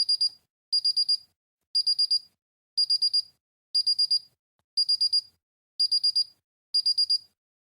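A Paradox security alarm keypad sounds its arming countdown: crisp, loud electronic beeps in regular bursts of three to four quick tones, repeating about every 0.7 seconds over complete silence.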